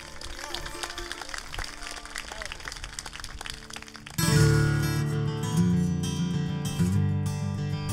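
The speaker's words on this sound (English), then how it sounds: "why don't you give him a big round of applause?" Concert audience applause for a band member at a summer show: steady crowd clapping mixes with a speaking voice, then a country band starts playing over it.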